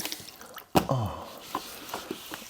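Water dripping and splashing onto a car headlight being wetted for wet sanding, a few close, distinct drips and a squishy splash standing alone without talk.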